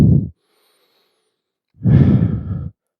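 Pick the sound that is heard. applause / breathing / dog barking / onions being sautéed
breathing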